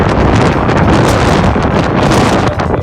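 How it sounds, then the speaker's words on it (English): Strong wind blasting across a coastal golf course, a loud continuous roar of buffeting gusts hitting the microphone, with no voices. "And the wind, it had to have been blowing like 70"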